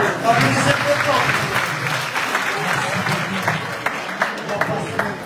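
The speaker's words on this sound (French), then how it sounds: "On va applaudir les candidats de gauche et les candidats de droite en même temps. Applaudissez très fort." A debate audience applauds the candidates on both sides together, with lively mid-level clapping spread across the room and voices and crowd murmur mixed in throughout.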